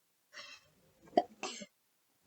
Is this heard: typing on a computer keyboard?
no